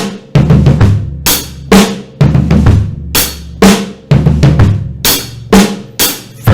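A drum kit plays a steady, loud groove, alternating punchy bass drum and crisp snare hits in a repeating pattern, with no other sounds.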